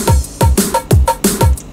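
Looped electronic percussion for a funkot intro, a fast pounding pattern of deep kick-like thumps with bright noisy hits on top, repeating evenly and loud with no voices.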